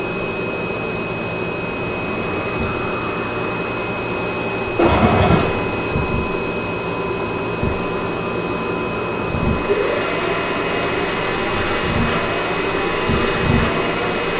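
A CNC lathe cutting one pass of a 3mm multi-start thread gives a steady machine drone with a sharp burst of cutting noise midway, then recurring soft knocks and shifts in tone as the tool moves.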